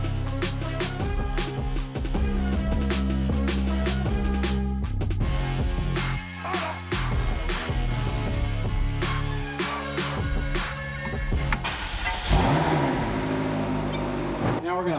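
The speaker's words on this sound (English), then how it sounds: "let's go ahead and get the McLaren started and let it idle for 2 minutes." A McLaren 650S, in for transmission filter and fluid work, starts and settles into a loud, steady engine idle with a strong humming drone and small clicks throughout.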